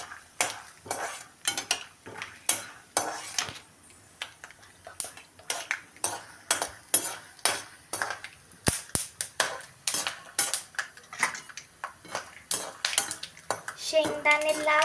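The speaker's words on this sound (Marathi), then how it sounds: "शेंगदाणे चांगले परतून घ्यायचे।" Peanuts roasting in a pan with cumin and mustard seeds, stirred with a metal spoon that gives a fast, steady run of loud scraping clatters against the pan over a faint sizzle.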